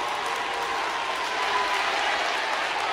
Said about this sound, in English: This crowd going absolutely nuts.